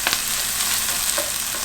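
Mushrooms and onion cooking in a pan give off a steady, close sizzle that runs throughout, with a couple of faint clicks near the start and no talking.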